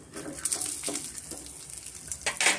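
Onion frying with a little salt in a pan, a moderate close sizzle with occasional spatula stirs and light clinks of cookware, no talking.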